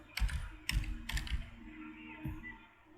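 Keys clatter on a computer keyboard in a few short bursts of close tapping, then a last lone keystroke after a pause, fairly quiet and with no talking.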